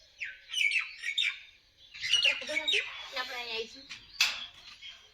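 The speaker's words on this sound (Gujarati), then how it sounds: "અહીંયા બાજુમાં પક્ષીઓનો અવાજ જુઓ," Birds chirp outdoors beside a village home, with bursts of high tweets and calls that come in several close, lively clusters. Faint voices sit softly underneath.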